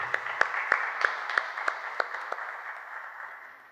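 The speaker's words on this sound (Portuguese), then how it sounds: "Eu peço uma salva de palmas ao nosso ex-prefeito." Audience applause in a formal meeting room for a former mayor of Niterói, a few distinct claps standing out over a steady patter that slowly fades over a few seconds.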